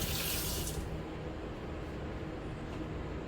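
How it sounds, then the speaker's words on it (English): A kitchen tap runs as hands are rinsed under it, a loud, close rush of water. A brighter splash in the first second fades into a steady flow. "let me rinse my hands"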